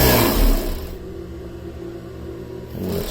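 A Singer 491 D300GA industrial sewing machine runs at full power, its motor whirring loudly at first, then settling into a steady, quieter hum before rising again at the end.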